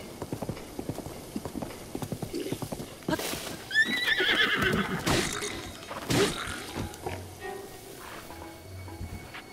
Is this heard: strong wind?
no